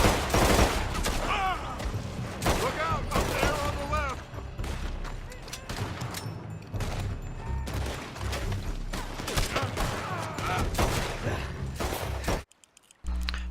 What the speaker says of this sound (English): As long as you have an enemy in your sights while you're performing this action, your pistols will be fully automatic